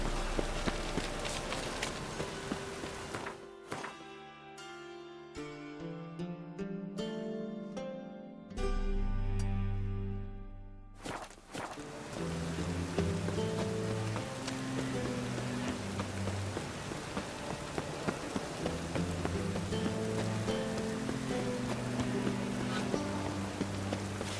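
Steady rain hisses continuously through a scene in The Witcher 3: Hearts of Stone, sitting beneath prominent game music with sustained tones and occasional louder swells.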